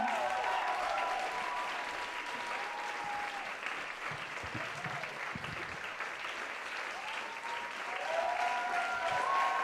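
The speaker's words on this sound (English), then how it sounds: "Give a big applause for Jules Gleeson!" Audience applause welcoming a performer to the stage at a stand-up comedy night, a fairly distant, steady patter of clapping mixed with scattered cheers and whoops throughout.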